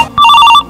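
A telephone bell rings loud and close in a single brief burst of rapid trilling, starting abruptly and cutting off after under half a second, with no one speaking.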